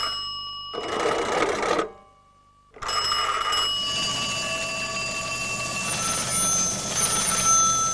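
An old telephone bell rings in loud metallic bursts, one short ring, a brief pause, then a longer sustained ring with a bright buzzing jangle.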